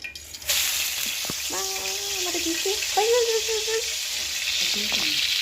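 Large giant prawns dropped into hot oil, which bursts into a steady loud sizzle after a moment and keeps frying throughout, with voices talking nearby.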